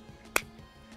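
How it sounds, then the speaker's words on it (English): A single sharp hand clap lands right into the microphone, a brief loud transient over a quiet background hum. "Alright, did not mean to clap into the mic."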